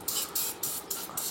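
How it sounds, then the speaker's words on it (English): Brake cleaner sprays onto a filthy, rusty metal bracket in four short hissing bursts, close and fairly loud, with brief pauses between them. "So I'm going to take some brake clean. We're going to clean it because it is filthy."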